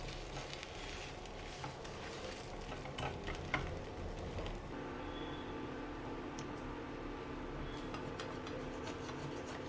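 A dosa made from grain batter fries on a hot pan with a soft, steady sizzle that stays quiet throughout, and a faint scrape and shift midway as it is turned.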